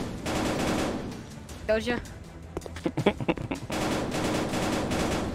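Bursts of rapid gunfire in a VR shooter video game, a stretch of shots at the start and another near the end, with a player talking in between.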